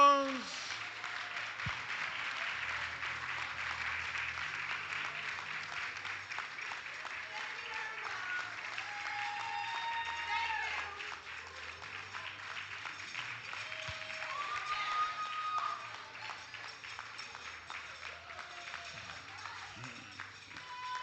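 Audience applause at a regional powerlifting championship in the Cayman Islands, sustained, fairly quiet clapping from a modest crowd in a hall, with some shouts and cheers mixed in.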